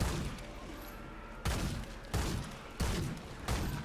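Sniper rifle shots ring out in the video game Remnant 2, four sharp reports spaced roughly evenly over a dense, steady game soundscape.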